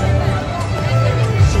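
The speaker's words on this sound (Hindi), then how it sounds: "कल से ज़्यादा, बहुत ज़्यादा भीड़ है भाई" A dense crowd at the Garh Kauthik fair hums with steady, close babble of many voices, a continuous low murmur of chatter and movement with no single speaker standing out.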